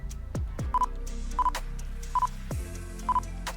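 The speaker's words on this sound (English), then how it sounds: "That is the sound of its acquiring focus." A Nikon Z6 II mirrorless camera's autofocus sounds up close as a series of short electronic focus-confirmation beeps, four evenly spaced chirps over faint clicks and background hum.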